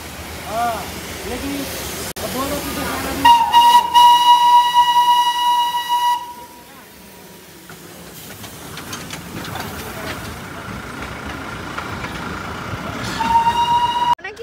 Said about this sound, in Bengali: দেখাচ্ছি যে দার্জিলিং এর টয় ট্রেনটা কত সুন্দর।